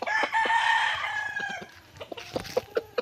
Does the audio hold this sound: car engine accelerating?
no